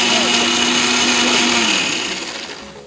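Onions being ground in a mixer grinder, a loud close whirring motor whine that holds steady, then winds down and fades near the end.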